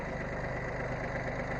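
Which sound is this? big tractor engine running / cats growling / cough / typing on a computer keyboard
big tractor engine running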